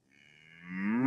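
Cow mooing in a pasture with snow around at a chilly sunrise: one long, rising low moo that swells steadily louder from soft onset, close by and alone.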